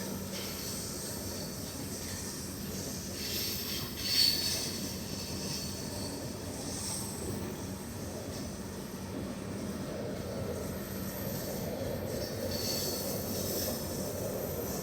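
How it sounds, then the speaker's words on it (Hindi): A special train made of Garib Rath Express coaches approaches from the Delhi Junction side, a steady, moderately loud rail rumble with a faint squeal, continuous throughout with no talk. "दिल्ली जंक्शन की तरफ से कोई तो ट्रेन आ रही है। गरीब रथ एक्सप्रेस के कोचेस को यूज़ करके बनाया होगा, स्पेशल ट्रेन होगी।"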